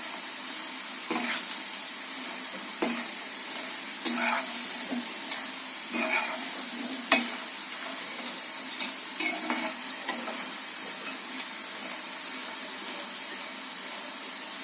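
Bitter gourd pakoras frying in oil over low heat, a soft steady sizzle broken by several brief scraping stirs spaced a few seconds apart, close by and fairly quiet with no talking.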